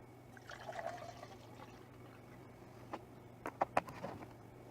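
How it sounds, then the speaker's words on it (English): Already conditioned water is poured from a gallon jug into a cup, giving a soft, faint trickle followed by a few brief splashy drips near the end, with no talking. "I would take the already conditioned water and I would pour some into the cup"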